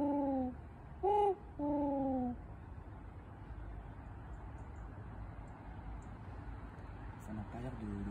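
A human voice imitates a wood pigeon call in the 16th arrondissement, giving three deep, hooting coos close up. Steady low street and city hum follows.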